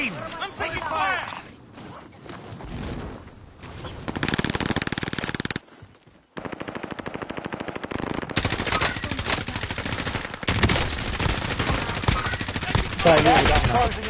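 Rapid automatic gunfire bursts and single shots ring out in a battle royale video game, loud and near. Short breaks separate the volleys, and voices talk over the shooting.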